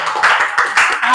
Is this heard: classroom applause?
yes